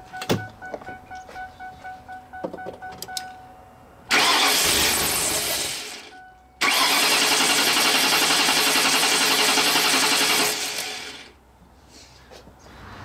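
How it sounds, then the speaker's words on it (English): A 1996 Lincoln with a 4.6L engine cranks without starting during coolant leak repair: two loud sustained bursts of starter whirring, a short one then a longer one of about four seconds, after quieter clicks and shop noise. "Now it shouldn't start, and when we crank it,"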